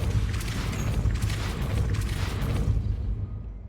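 A Depulso spell blast in Hogwarts Legacy erupts as a sustained rumbling boom with crackling, low-heavy energy that rolls on for several seconds before fading out.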